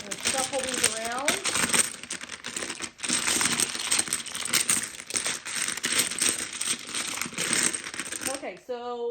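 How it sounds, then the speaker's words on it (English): Dominoes shuffled by hand across a tabletop, a dense run of loud, close clicking and clattering tiles that pauses briefly and ends with a short spoken moment. "Shuffle these around."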